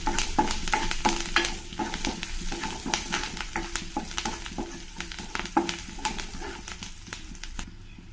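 Onion and curry leaves frying in oil for a ridge gourd tovve, stirred continuously: a loud, close sizzle under a busy rhythm of spatula scrapes and taps against the pan, with no talking.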